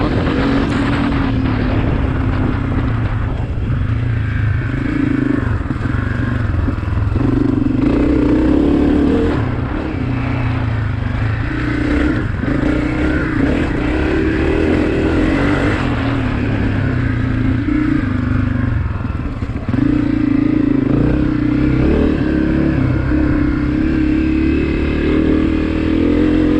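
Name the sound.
Honda CRF250F dirt bike engine running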